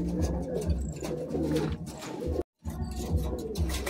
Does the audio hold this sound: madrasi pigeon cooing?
yes